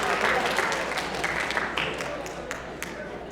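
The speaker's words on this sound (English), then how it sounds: "you can clap for this" Applause from an audience at a senior awards event, a steady wash of many hands clapping that carries on throughout, with some voices mixed in underneath.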